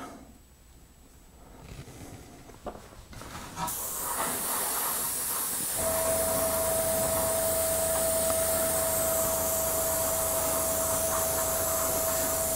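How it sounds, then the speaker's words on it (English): Airbrush spraying primer during nozzle cleaning, starting quiet, then a sudden loud, steady airy hiss that continues to the end with a constant high whine underneath. "I'm going to clean the nozzle a little bit here"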